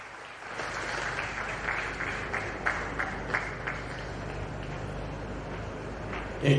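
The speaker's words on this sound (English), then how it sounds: "Can we give them another round of applause," An audience at a municipal launch event in Sol Plaatje gives a sustained round of applause, a steady wash of many hands clapping that stays even throughout, with a brief louder burst at the very end.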